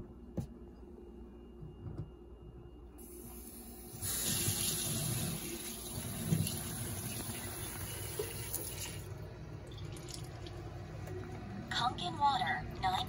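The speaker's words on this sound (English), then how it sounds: "So I'm pretty much going to run this through the tap." Tap water gushes steadily through an Enagic Kangen K8 water ionizer machine at a kitchen sink, a continuous close rushing flow that swells louder partway through, with a person talking over it.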